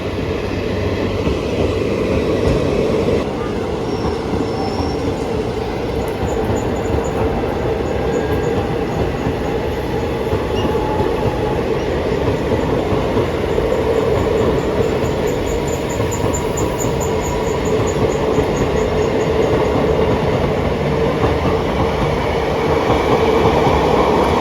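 A passenger train with sleeper coaches rolls steadily and loudly through Ezhimala railway station, wheels rumbling with clickety-clack and a faint high squeal for the whole stretch, no voices.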